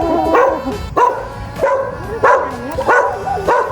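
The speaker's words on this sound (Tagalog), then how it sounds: "Yung asong black" A black dog barks in loud, close, repeated woofs with short yelps between them, roughly six barks in a steady rhythm during an outdoor morning walk.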